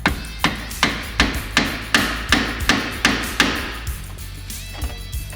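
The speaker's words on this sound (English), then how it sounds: "take a flat screwdriver and a hammer and just kind of tap it in there a little bit to spread it" A hammer taps a flat screwdriver into the steering shaft splines of a Polaris RZR XP 1000 while a rack and pinion is being swapped, giving about nine sharp, evenly spaced metallic strikes close up, then a quieter pause.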